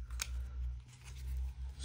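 Playing cards for the Marvel Champions card game being shuffled at a table, a close, steady rustling riffle with a few sharp snaps, running continuously with no talk.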